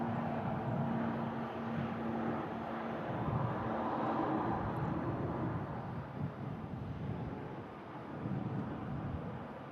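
An Aer Lingus ATR turboprop departs for Belfast, its engine a faint, steady broadband roar with a low droning hum, heard at a distance with light wind noise and no talking.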